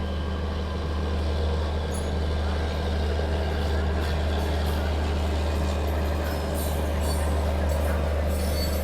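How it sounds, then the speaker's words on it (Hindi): Train hauled by a WP4 locomotive with a generator car, passing near Prayagraj Junction, giving a steady low mechanical drone with constant rumble and faint clatter, heard continuously from a nearby moving train. "WP4 लोकोमोटिव लगा है, जनरेटर कार मस्त लग रहा है आवाज़ सुन के।"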